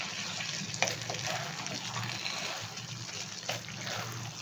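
Spaghetti is stirred through cream in a pan, giving soft, continuous wet sloshing and gentle sizzling with faint clinks of the utensil, fairly quiet and with no talk.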